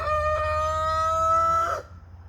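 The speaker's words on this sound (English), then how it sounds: "Young rooster, still learning." A young Jumbo Cornish Cross rooster crows once, a near, loud, strained call that breaks off abruptly partway through, heard alone with no talk.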